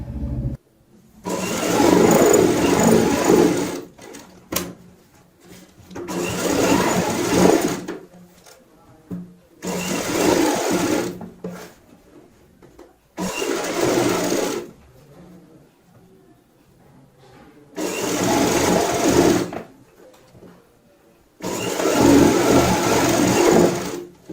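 Sewing machine stitching seams joining the pieces of a readymade gown bodice, running in five loud bursts of a few seconds each with short quiet pauses between.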